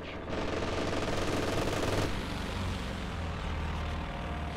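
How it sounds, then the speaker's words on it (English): A strafing run in Company of Heroes 2 roars past as a loud, dense burst of rapid machine-gun fire with aircraft engine noise, cutting off after about two seconds into a lingering rumble. "Strafing run going down"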